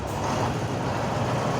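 A concrete truck reverses at an underpass construction site in Islamabad, its heavy engine rumbling loudly and steadily across the whole stretch with no break.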